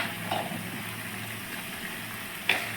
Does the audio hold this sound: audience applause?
no